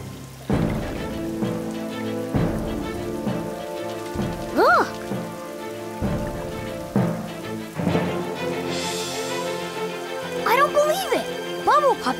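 Rain falls in a children's cartoon, a steady patter heard under cheerful character voices and playful music.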